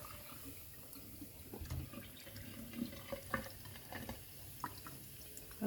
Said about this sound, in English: And throw off the water.